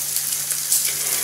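Bacon crisps in a non-stick pan with a close, continuous hiss and crackle of sizzling fat that keeps an even level throughout.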